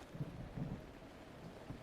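Rain falls steadily in Zelda Breath of the Wild, with low thunder rumbles rolling in a few times beneath a constant wash of noise, quiet and even throughout with no voices.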